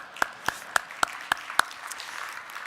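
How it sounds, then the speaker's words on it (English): At an economic summit, six distinct, evenly spaced claps ring out fairly close, followed by a faint scattered patter of clapping from the audience. "Maybe we'll give you a round of applause for that."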